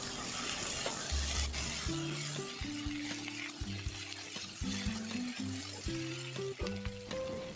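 Steady sizzling of eggplant frying in a pan, with a spatula stirring and scraping throughout; background music tones run underneath.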